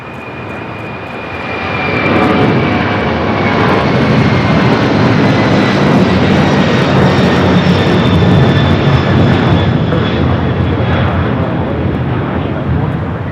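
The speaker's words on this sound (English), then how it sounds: "At this Queen heading to Cincinnati, 747-400 freighter." A Boeing 747-400 freighter departing LAX for Cincinnati roars up loudly after a quieter start, its heavy jet thunder rising at two seconds and sustaining strongly with whining tonal engine lines, close and dominant throughout.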